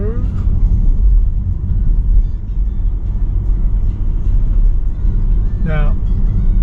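A Tesla drives on a Brisbane road at evening peak hour, with a steady low cabin rumble of tyres and road noise throughout and a brief chirp near the end.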